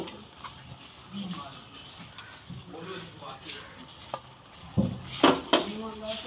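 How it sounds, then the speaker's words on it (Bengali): A utensil stirs ground spice mix into jujube (kul) pickle in a pan, giving soft scraping and clinking with scattered knocks that grow sharper and louder near the end. "মশলা দিয়ে খুব ভালো করে কুলের আচারটা মিশিয়ে নেব মশলার সঙ্গে"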